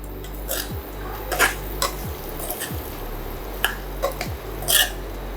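A spoon stirs cumin-spiced potatoes with dry mango powder and garam masala in a pan, giving several separate scraping knocks and clinks of metal on metal at an uneven pace, fairly close, over a low background hum.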